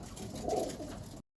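Racing pigeons in a breeding loft giving soft, throaty coos, a short close-up burst of low cooing that stops abruptly.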